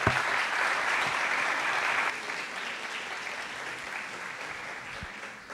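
Sustained applause from a congress audience at a neurology and neurosurgery conference, steady and dense for about two seconds, then thinning to a softer, lighter patter that continues to the end.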